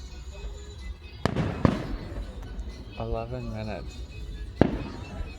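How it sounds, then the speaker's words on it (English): Fireworks exploding at a neighborhood display, with several sharp, loud bangs spread irregularly through the moment and someone talking over the noise in between. "What, the fireworks been 11 minutes?"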